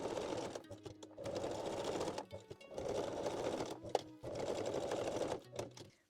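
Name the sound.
sewing machine stitching bralette closure edges, straight or zigzag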